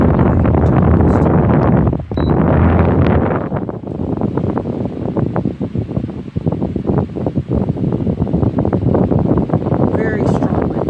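A Rowenta 53-inch oscillating pedestal fan running on its turbo boost setting, a loud, steady broadband rush of air buffeting close to the microphone, with a brief dip partway through before the strong blowing resumes.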